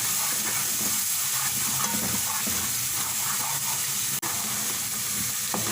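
Nutmeg, mace and chili powder are stirred into a sizzling chicken kofta curry base, a loud, steady close frying hiss with light scraping and no talk.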